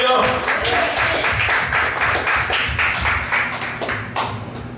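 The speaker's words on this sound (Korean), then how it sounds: "뜨겁게 하나님께 감사와 영광의 박수 올려드리겠습니다" A church congregation at a Sunday worship service claps in steady rhythmic bursts. The applause is close and sustained for several seconds, with faint voices mixed in.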